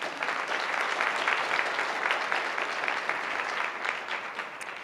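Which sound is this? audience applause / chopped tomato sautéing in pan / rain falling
audience applause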